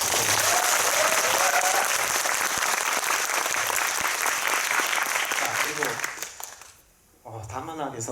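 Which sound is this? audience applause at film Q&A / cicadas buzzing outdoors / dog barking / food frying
audience applause at film Q&A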